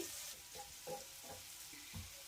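Chopped onion sizzles quietly in a pan while Maggi noodles are being made, with a faint steady frying hiss and a few soft stirring taps.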